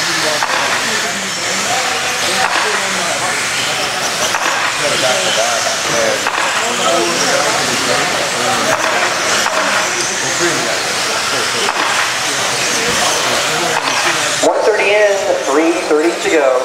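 Electric 17.5 2wd RC buggies race around a dirt track, their motors whining and hissing continuously at close range, while an announcer calls the race over them throughout.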